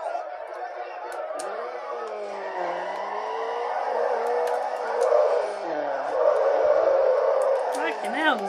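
Racing cars from the street-racing game Need For Speed Underground, with engine drone and tire skids running continuously while a person chats over the top.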